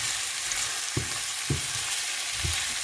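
Seasoning sautés in a small amount of hot oil for a quinoa and prawn dinner, a soft steady sizzle with a few duller stirring knocks. Close but quiet, with no talking.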